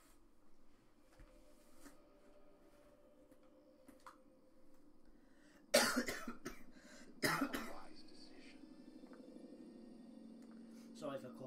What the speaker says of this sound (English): Sorry for cough for that, I'm a little bit sick today.